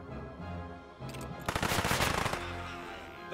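Gunfire in the World War 2 video game Headquarters: a loud, rapid machine-gun burst of about a second, with a brief lead-in, over a soft background of game music.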